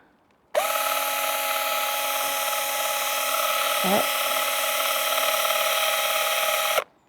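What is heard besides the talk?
power drill drilling holes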